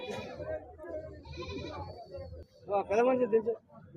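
Three goats at the weekly livestock market in Siddipet, Telangana, give a loud, close bleat near the end, while people talk steadily throughout.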